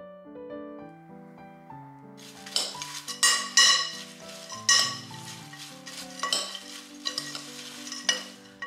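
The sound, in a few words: mixing cereal ingredients with cloves, cinnamon and vanilla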